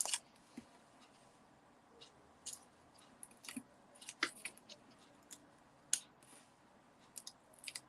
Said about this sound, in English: foam adhesive sheets. Cut a thin strip off.